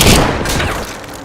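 A single loud sniper rifle shot cracks and booms against a steel mortar, its echo ringing out and slowly fading over about a second.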